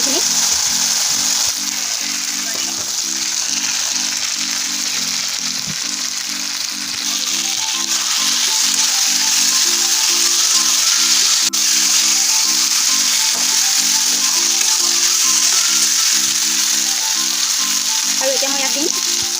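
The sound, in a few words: fried bitter gourd and potatoes added to spices, sizzling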